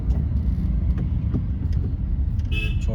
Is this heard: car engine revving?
yes